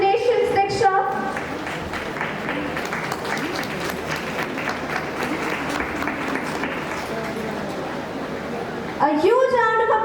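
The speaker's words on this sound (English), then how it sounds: "A huge round of applause for the new upcoming cabinet members of Dayanand House." An audience claps steadily through a school swearing-in ceremony, with a voice speaking over the start and returning near the end as the applause continues beneath.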